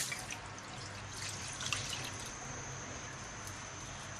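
A glass of water pours steadily into a pan with a continuous splashing hiss, close and moderately quiet, with no talking.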